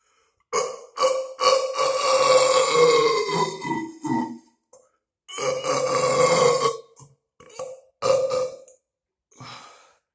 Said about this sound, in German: Ich weiß jetzt nicht, was das für ein komischer Rülpser war.